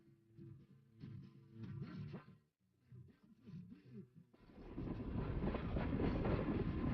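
A freight train rolling on rails, building from a quieter, muffled opening into a loud, dense rumbling clatter that holds steady through the second half.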